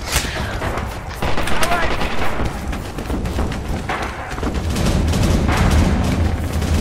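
Sustained heavy gunfire and booming shots in a team-based war video game roll on continuously at a loud, close level, with a voice shouting over the fighting.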